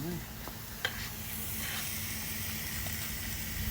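Chicken inasal cooks over heat with a continuous soft sizzle and hiss. A few faint clicks sound near the start, and there is no clear talk.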